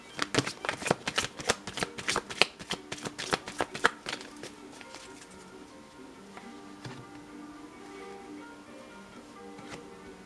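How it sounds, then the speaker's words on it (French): Tarot cards shuffled in quick rhythmic riffling bursts for about four seconds, followed by softer scattered taps and slides as cards are laid out on a table, close up. "Voilà, je positionne les cartes."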